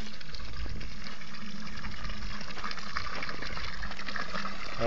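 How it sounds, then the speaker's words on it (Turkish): Water pouring steadily from a stone village fountain on Gölova plateau in Sivas, a continuous close splashing gush with no talk over it. "çeşmenin de güzelliğine bak hele mübarek. Sesine baksana."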